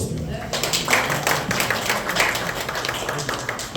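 Audience at a Democratic Party candidates' joint pledge event in Daejeon gives continuous, dense applause, a steady wash of clapping from a crowd filling the whole moment without pause.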